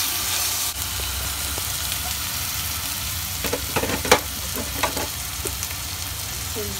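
Spices frying in a pan and being stirred, heard as a steady, close sizzle with a few clinks and scrapes from the spoon partway through; no one speaks.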